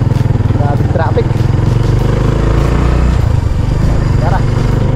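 Heavy road traffic in the Philippines, with a steady rumble of motorcycle and car engines up close and brief horn-like tones rising twice above the drone.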